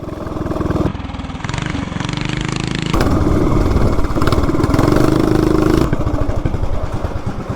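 A CT200U-EX minibike with a stock 420 big block engine runs loud and close, its engine note rising and falling with throttle changes and a steady mechanical clatter throughout.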